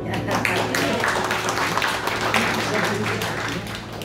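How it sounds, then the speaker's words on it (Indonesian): Congregation applause during a church sermon, many hands clapping in a sustained, dense burst that fills the hall, loud and continuous with a faint hum underneath. "Boleh dong tepuk tangan"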